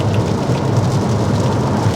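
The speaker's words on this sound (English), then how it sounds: "it's raining." Steady rain falls continuously outdoors near traffic, a dense, even wash of patter and hiss with a low rumble underneath, loud and unbroken with no voices.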